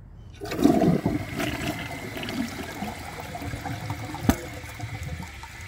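A 2014 Delta Corrente toilet flushes with its handle held down, a close rush of water that swells quickly and then settles into a steady draining wash, broken by one sharp knock partway through.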